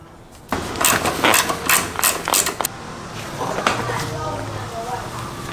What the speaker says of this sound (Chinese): 坐垫就是这里，用12号扳手就可以拆了。